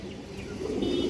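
Female Chila pigeon of an old stone-eyed line cooing softly, a low rolling murmur that swells slightly in the second half, close by with no talk.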